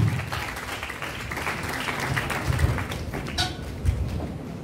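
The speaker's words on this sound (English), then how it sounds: "Another round of applause for Professor Ayodele Ashenua" An audience at an annual obstetrics and gynaecology lecture at a university in Lagos applauds with steady, moderately loud clapping that continues for several seconds in a large hall.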